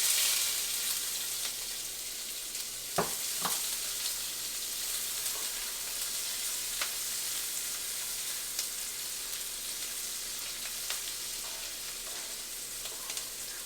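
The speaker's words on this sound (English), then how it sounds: "I have my onions and this bacon grease. I'm going to toss those onions in and cook them until they're translucent." Onions fry in bacon grease in a pan with a continuous, even sizzle throughout, broken by a couple of sharp scraping clicks of stirring early on.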